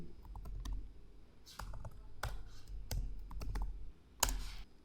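Computer keyboard keys typed in short bursts of crisp clicks, spelling out a command at a Windows PC, close and fairly quiet, with no voice.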